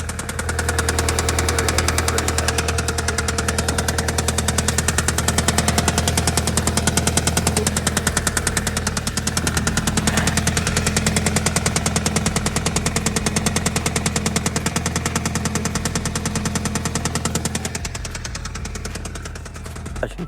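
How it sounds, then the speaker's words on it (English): Audi A3 8P engine idling with a bottom end knock from worn crankshaft or rod bearings, a loud rapid metallic knocking over a low steady engine drone that fades slightly near the end, with no talking. "We've got bottom end knock, which is at worst a crankshaft, bottom end bearings and rod bearings."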